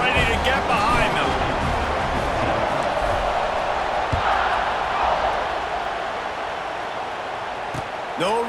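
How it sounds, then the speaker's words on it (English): A stadium crowd roars steadily at kickoff in the EA Sports College Football 26 video game, a dense continuous wash of cheering throughout with a commentator's voice over it. "this crowd now ready to get behind them."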